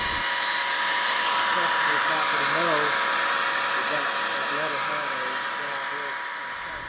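A router cuts into a carved wooden heart, cleaning up roughness with a router bit, giving a steady high-pitched electric whine that holds throughout before tapering slightly at the end, with some faint voice under it.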